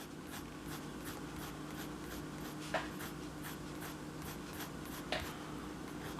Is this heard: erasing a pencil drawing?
yes